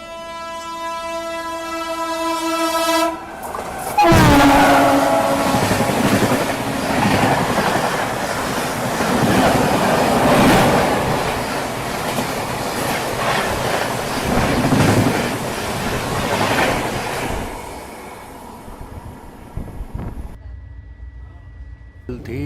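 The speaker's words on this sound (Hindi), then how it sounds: "लेकिन हमारी जो है वो और और स्लो ट्रेन है, बिल्कुल स्लो ट्रेन है, पैसेंजर ट्रेन है ऑलमोस्ट ये" A slow passenger train on an Indian railway approaching Khandwa Junction, with a long blaring horn at the start, then a continuous rumble and clatter of wagons rolling past, close and loud, fading near the end.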